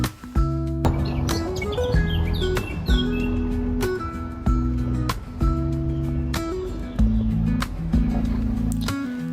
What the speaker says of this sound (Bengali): কানে এলো পাখিদের মিষ্টি কিচিরমিচির ডাক।